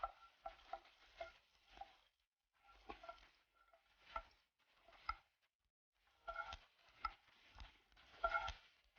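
Curry leaves and dried red chillies fry in a pan, then black-eyed peas for sundal are stirred in, giving close, intermittent bursts of scraping and sizzling separated by short quiet gaps.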